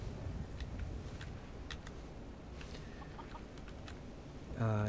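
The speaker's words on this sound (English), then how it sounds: "We have a couple chickens here, and an egg basket, or egg nest with an egg in there." Chickens in Skyrim Special Edition cluck quietly in short scattered bursts over a soft ambient background, with a brief louder sound at the very end.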